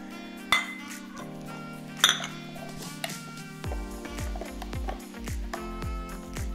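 Sharp metallic clinks and knocks from a Sedhoom vegetable chopper cutting apples, a few distinct clacks followed by a rapid run of chopping taps, close and moderately loud against a steady low background hum.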